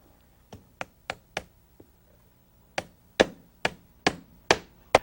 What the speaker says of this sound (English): Now we temporarily nail the ledger board onto the side of the structure,